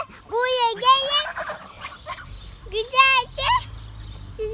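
Loud poultry calls, several bursts of squawking and clucking close by, with pauses between them.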